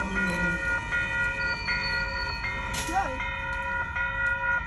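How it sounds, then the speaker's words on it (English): Warning bells at a railway level crossing in West Auckland ringing in a steady repeated pattern from a short distance, with a person's voice briefly heard over them. "I can hear the level crossing down there"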